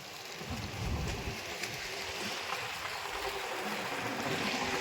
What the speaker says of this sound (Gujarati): ધોમ વરસાદ પડે છે